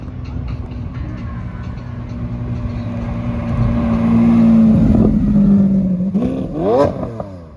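A Lamborghini SV Roadster supercar leaving a Midwest car show, its deep engine drone building into a loud close pass, then a sharp rising rev near the end.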